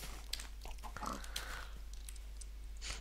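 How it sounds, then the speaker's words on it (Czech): Pigs in a video game give a few soft grunts and snorts, faint and brief over a low steady hum. "Já vedu roj prasat."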